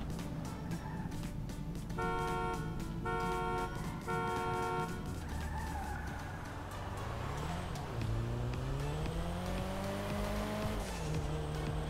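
A car horn in GTA 5 sounds three short, evenly spaced honks at the start of a street race. Engine rumble and tire squeal follow as the cars pull away and rev upward.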